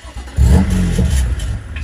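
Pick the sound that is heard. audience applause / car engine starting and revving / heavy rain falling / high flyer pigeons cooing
car engine starting and revving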